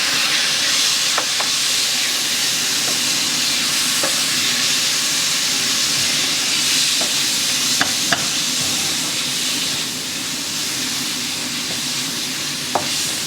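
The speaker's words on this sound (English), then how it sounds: "Now I'm going to add chopped tomatoes." Chopped tomatoes frying in a hot pan for chickpea curry give a loud, steady, dense sizzle and hiss lasting throughout, with a few faint clinks of stirring, close up and without talk.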